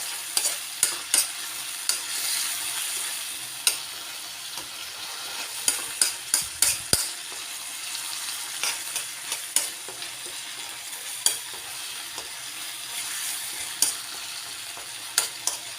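Chicken frying and being stirred in a pan for lomi made with Pansit Bato noodles: a steady close sizzle broken by frequent sharp utensil scrapes and knocks, with no talk.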